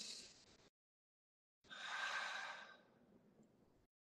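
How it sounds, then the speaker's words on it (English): Deep breaths during guided breathwork: a short airy breath cuts off, then after a second of silence a longer, fuller exhale swells and fades, close by and quiet, with no talking. "Breathe in through the nose. And let it out."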